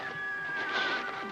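A horse whinnies in a drawn-out, wavering neigh at moderate distance, rising and falling over about a second and a half, with faint hoof clatter beneath and no talk.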